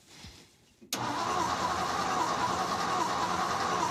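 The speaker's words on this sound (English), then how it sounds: "He's gonna crank this thing over for us" A 1956 Ford truck with a Y-block engine is cranked over and catches, opening on a quiet stretch before a sudden loud burst that settles into a steady, close engine drone.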